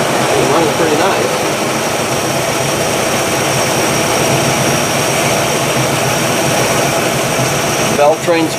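Engine of a 1962 Chevy, parked for 35 years, idling after a warm-up: a loud, continuous, steady roar up close, with a brief bump near the end.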